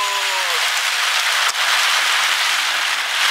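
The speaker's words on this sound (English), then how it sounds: "And there's rain right here, I think." Heavy rain pours onto the road during a tornado storm chase near Faith, South Dakota, making a dense, steady hiss close by with no voices.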